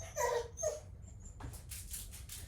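A pet dog whimpers and yips softly at close range in a few short, high-pitched bursts, followed by quieter rustling.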